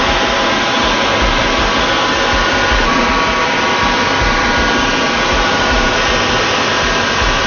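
A crystal cutting wheel grinds material off glass while custom crystal pieces are shaped, giving a steady, loud, broadband whir that runs unbroken throughout, with no voices.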